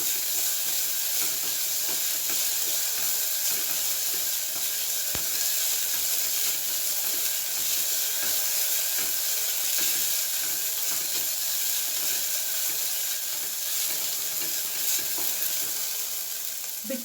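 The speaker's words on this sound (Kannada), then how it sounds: "ಈ 3 ತರಕಾರಿ ಹಾಕಿ 1 ನಿಮಿಷ ಹೀಗೆ ಫ್ರೈ ಮಾಡ್ಕೋಬೇಕು" Vegetables, including potato, fry in a pan for a palak veggie bath, a steady close sizzle with faint stirring scrapes running throughout without any talk.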